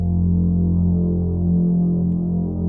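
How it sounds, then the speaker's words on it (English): A single held note on a deep, bassy cinematic synth pad drones steadily, loud and dark with a slow throbbing pulse and no voices. "it sounds kind of bassy, which is what we wanted. And I think these pads are really used to create that suspense"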